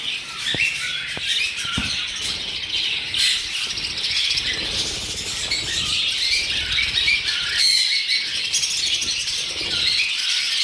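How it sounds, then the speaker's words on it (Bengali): Dense, continuous chirping and chattering of many budgerigars, with occasional sharper squawks over a busy flock din, fairly loud throughout. "নেক্সট বন্ধুরা দেখতে পাচ্ছে বদ্রি পাখি।"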